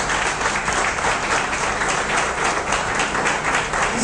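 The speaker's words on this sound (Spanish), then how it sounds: "también un fuerte aplauso." Audience applause fills a provincial party office opening in Santo Domingo Este, a steady dense wash of clapping that holds evenly loud for the whole stretch with no break.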